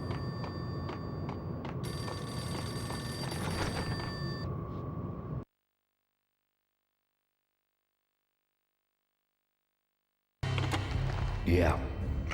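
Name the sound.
payphone ringing in video game Max Payne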